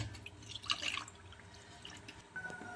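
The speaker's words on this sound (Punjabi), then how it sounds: "ਇਹ ਸਿਰਕੇ ਵਾਲੀ ਚਾਹ ਪੱਤੀ ਆਪਾਂ ਧੋ ਲਾਂਗੇ" Water trickling and dripping while used tea leaves soaked in vinegar are rinsed, a faint, steady splashing with a few brighter drips early on and no talk.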